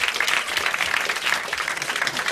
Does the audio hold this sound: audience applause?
yes